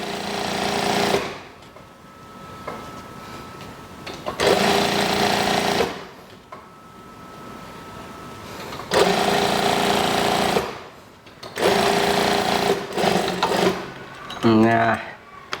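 Sewing machine stitching a kimono-sleeve house dress, running in loud bursts of a few seconds separated by short pauses, with a brief voice near the end.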